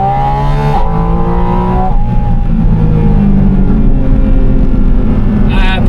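A Porsche 718 Spyder RS sports car with a 500-horsepower engine revs hard at high RPM. The roar stays loud and steady throughout, with rising and falling engine tones.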